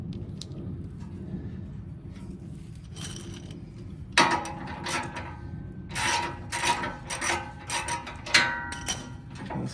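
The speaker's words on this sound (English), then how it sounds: "lowering as I unthread the bolts." Bolts are unthreaded from the engine skid plate of a 2022 Ford Bronco with a ratcheting tool, giving repeated close clicking and rasping bursts after a quieter stretch of faint rubbing.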